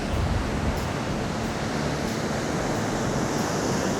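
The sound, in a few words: strong ocean waves crashing on the shore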